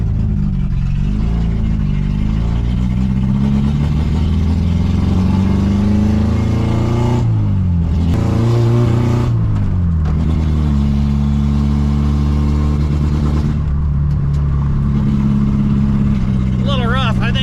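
A 1981 Volkswagen Rabbit being driven for the first time in years, running rough and smoky, makes a close engine drone that rises and falls through gear changes and revs, with people talking over it.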